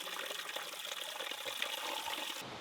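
A small mountain stream just below a Scottish summit near a loch flows steadily, giving a close, even rush and gurgle of water that continues throughout before cutting off abruptly.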